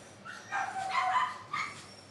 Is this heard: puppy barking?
yes